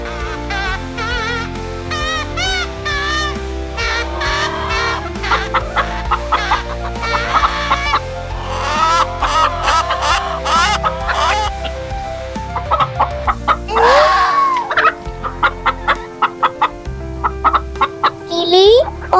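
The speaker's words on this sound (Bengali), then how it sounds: "মিলি, ও মিলি, দেখো আমাদের মুরগি চুরি করছে।" Cartoon chickens cluck and squawk in busy, loud bursts close by, with rising cries and an occasional crow-like call breaking through the steady clucking.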